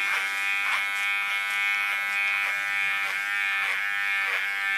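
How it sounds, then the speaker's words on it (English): Electric hair clipper buzzing steadily at close range as it cuts over a comb along the neckline during a nape shave, a continuous hum with slight rhythmic dips as the comb moves. "Coming to the neckline. Work clipper over comb."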